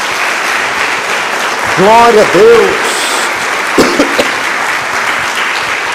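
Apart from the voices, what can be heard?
congregation applause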